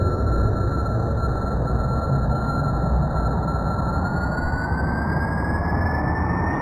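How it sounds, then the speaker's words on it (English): Space plane jet engines in a video game roar steadily and loudly throughout, a dense continuous rush with a thin whine that slowly climbs in pitch, with no talking. "Jet engines on."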